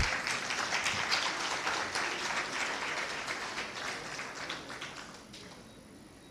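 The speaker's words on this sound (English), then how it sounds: "This is the point we clap." Applause breaks out at the launch of the Kenya County Budget Transparency Survey 2023, a sustained, fairly dense crowd clapping heard from across a room that stays steady and slowly thins toward the end.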